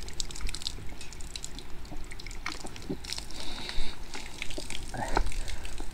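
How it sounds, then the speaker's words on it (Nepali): Natural spring water in Gulmi, Nepal, flows and splashes in a steady, broad rush, with scattered louder drips and gushes rising above it, fairly near. "गुल्मीको पानी"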